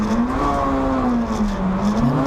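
Honda Civic race cars in the Civic Cup round at Silverstone Circuit scream past with a loud, continuous engine whine whose pitch rises and falls as the drivers shift and battle.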